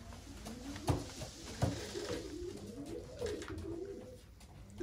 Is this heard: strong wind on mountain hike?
no